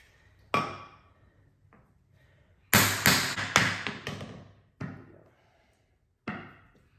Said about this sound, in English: I'm going to hit it with a brass mallet.